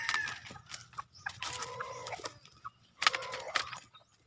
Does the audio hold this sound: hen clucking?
yes